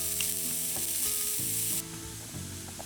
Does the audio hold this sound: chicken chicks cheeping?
no